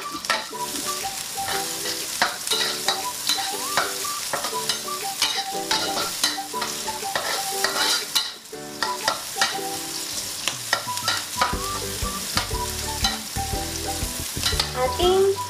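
Onion fries in a pan for pancit bihon with sardines, a steady close sizzle broken by repeated scraping strokes of a spatula stirring throughout, fairly loud and continuous with no talking.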